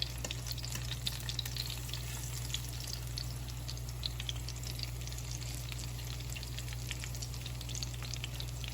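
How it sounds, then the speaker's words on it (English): Plantain slices (dodo) fry in a little oil, giving a steady, quiet crackle and sizzle with faint pops over a low background hum. "If you notice, I didn't add a lot of oil, so it's not like floating in the oil. Just enough to fry it."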